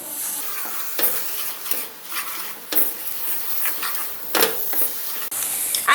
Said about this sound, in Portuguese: Vamos mexer mais um pouco.